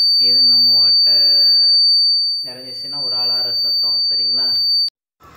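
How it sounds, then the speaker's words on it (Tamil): A steady, high-pitched electronic buzzer tone from a water tank overflow alarm drones under someone talking, then cuts off abruptly near the end. "இது நம்ம வாட்டர் நிறைஞ்சிச்சுன்னா ஒரு அலாரம் சத்தம்"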